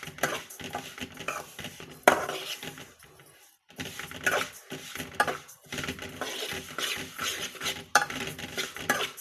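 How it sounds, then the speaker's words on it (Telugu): A metal spoon scrapes and stirs a protein laddu mixture as it roasts in a pan, giving steady rhythmic clinks and scraping strokes with one short pause, close and fairly loud with no talk. "ఇలా కలుపుతూనే ఉండాలి, లేకపోతే మాడిపోతుందండి"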